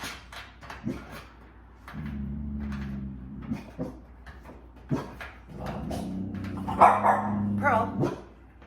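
A pet dog barks indoors in several separate bursts, with yips and whimpers between them, near and moderately loud, while someone talks over and around the barking.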